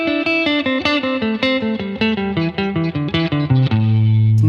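An electric guitar plays a quick descending pentatonic run of distorted notes in repeating groups of three, ending on a sustained low note.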